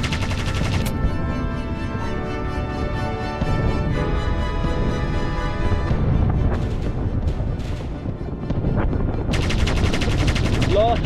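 Aircraft gun turrets fire in sustained, loud bursts within an aviation combat video game, rattling continuously over droning engine tones, with brief pauses between volleys.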